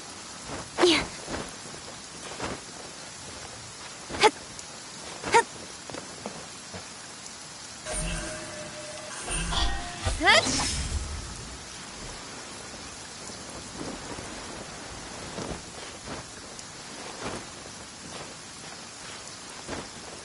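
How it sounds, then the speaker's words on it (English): Heavy rain hisses steadily in a Genshin Impact storm, broken by sharp close thunder cracks and a long rolling rumble midway, with no talking. "Quite a downpour."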